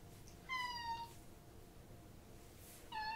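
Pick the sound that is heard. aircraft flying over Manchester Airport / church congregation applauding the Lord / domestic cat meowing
domestic cat meowing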